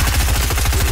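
Rapid automatic gunfire in Fortnite: a dense, evenly spaced burst of shots, about a dozen in one second, loud and continuous without pause.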